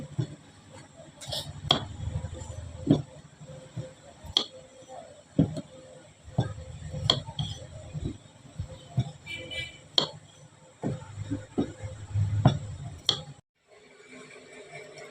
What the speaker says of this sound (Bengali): মাঝখান দিয়ে আলুগুলো স্লাইস করে কেটে নিচ্ছি